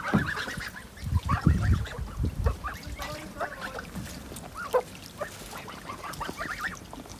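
Several 65-day-old geese honk repeatedly at moderate distance, calls overlapping in short bursts, with some low rumbling noise near the start.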